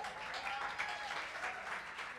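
Audience applause at a live bar music show, steady dense clapping from a crowd filling the whole stretch without pause, fairly near and even in loudness.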